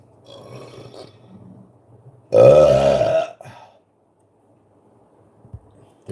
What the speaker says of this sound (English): Can you try to burp?